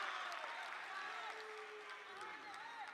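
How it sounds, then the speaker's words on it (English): A college wrestling match crowd in a gym cheers and claps for a mat return, a broad wash of applause and shouts while a commentator talks over it. "Crowd loves mat returns."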